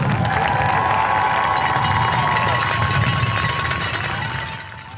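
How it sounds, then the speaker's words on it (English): Football fans in the stands at a 2022 high school game give seniors a round of applause, a steady wash of crowd clapping and cheering heard from a distance, fading toward the end. "Fans, let's give these seniors another round of applause."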